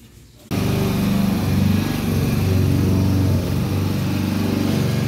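A grass trimmer cutting grass in a garden in Saudi Arabia, a loud, close, buzzing small engine that starts suddenly and runs steadily with slight pitch changes as it cuts.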